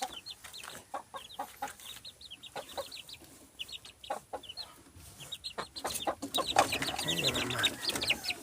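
A mother hen clucks in short repeated bursts close by, joined by other chicken calls, with the sound growing busier and louder toward the end; faint voices may be present.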